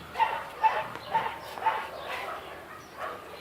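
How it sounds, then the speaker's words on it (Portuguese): A neighbor's dogs bark in a quick run of four or five yaps, somewhat distant, then fade to softer whines. "Os cachorros do vizinho não vou deixar eu filmar, eu acho"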